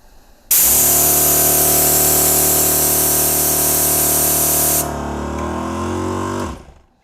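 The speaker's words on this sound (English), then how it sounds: "when you press on it, it's gonna let the air out, and then because the air is coming out, this compressor is gonna kick back on" A Napa 300LPM air compressor runs loudly with a hissing air release on top; after a few seconds the hiss stops, the motor hum carries on briefly, then the compressor winds down and falls quiet.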